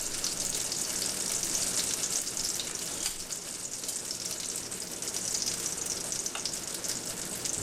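A tortilla frying in hot oil for homemade taco shells, a steady close sizzle with a dense hiss of spattering and light crackle throughout, no voices.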